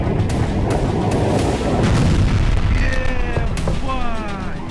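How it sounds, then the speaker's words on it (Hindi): A deep, rumbling blast from a weapons depot explosion in Krasnodar, Russia roars on with crackling booms, while a person's voice is heard faintly near the end. "रूस के हथियार गोदाम में ब्लास्ट हुआ।"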